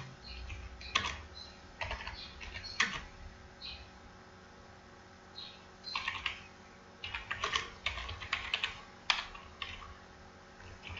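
Typing on a computer keyboard, close and fairly quiet, in irregular bursts of rapid clicks separated by short pauses.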